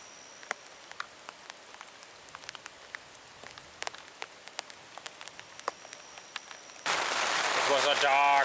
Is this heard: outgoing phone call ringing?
no